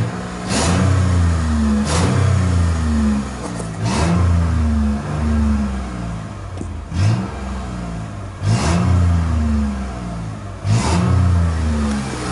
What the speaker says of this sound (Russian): Газуем, газуем, газуем.